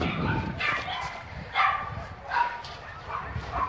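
A dog barks and yips in short bursts close by while a person talks to it encouragingly throughout.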